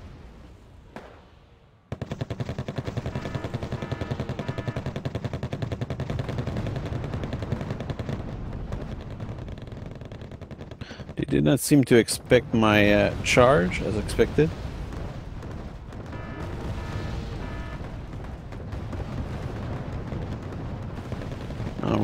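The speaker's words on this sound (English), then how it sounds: "Of course, there will be some explosion around the place" Bursts of gunfire and explosions in the video game Wargame AirLand Battle rattle continuously for much of the stretch, with a loud cluster of blasts in the middle, while someone narrates over them.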